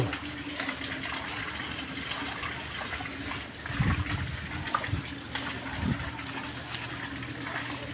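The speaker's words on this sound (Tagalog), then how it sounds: "tubig lahat dito yan." Floodwater after a night of heavy rain, rushing and gurgling steadily, with a few louder splashes and surges midway through.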